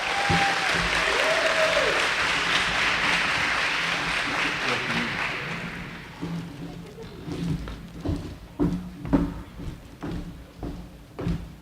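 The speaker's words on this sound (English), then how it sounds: "How about a big round of applause, please" An audience at a senior recognition dinner during the Harambee Festival welcomes a speaker with loud, sustained applause that fades after about six seconds into scattered claps, thumps and murmuring voices.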